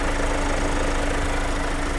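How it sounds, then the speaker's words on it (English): Kia Carnival 2.2-litre turbocharged Smartstream diesel engine idling, giving a steady, close, even clatter with no talk over it. "I'm sure you can hear that clutter, that diesel clutter. That's quite normal for a diesel engine."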